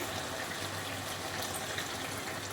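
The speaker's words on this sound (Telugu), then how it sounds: "ఇప్పుడు కొంచెం వాటర్ యాడ్ చేస్తాను." Water pours steadily into a pot of chicken curry, a continuous close gushing wash lasting a few seconds with no talk.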